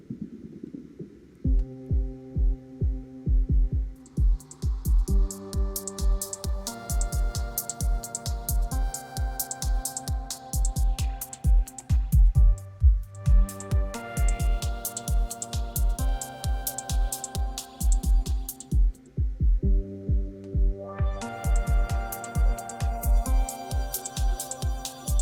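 A song played back in Ableton through a high-pass filter: steady thumping beats with bright synth layers, one short dropout midway, then fuller sound again near the end.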